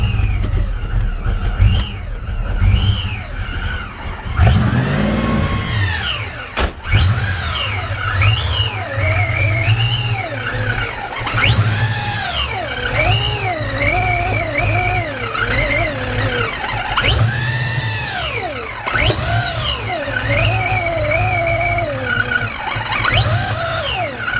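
A supercharged Foxbody Mustang engine running rough on first start with an idle problem, revving and dipping unevenly with whining, squealing tones and occasional sharp pops and bursts, loud and close.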